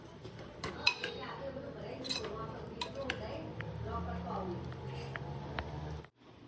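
A spoon stirs tempered khichdi in a pot with red chili powder just added, giving repeated light metallic clinks and scrapes against the vessel that continue steadily for several seconds before stopping abruptly.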